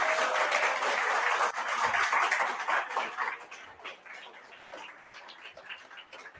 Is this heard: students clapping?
yes